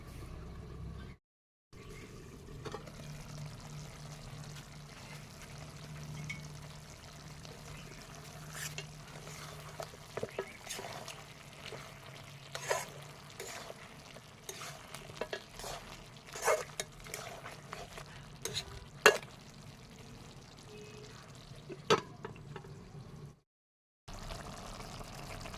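Water is poured into a pan of local chicken cooking with taro flower and potatoes, then stirred. Soft trickling gives way to scattered faint scrapes and clinks of the utensil against the pan.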